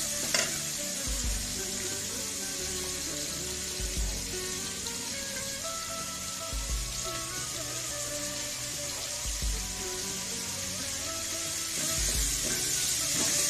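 Onions sauté with salt in a pan for a home-style chicken kolambu, with a steady close sizzle and frying hiss and a soft thud of stirring every few seconds, and no voices.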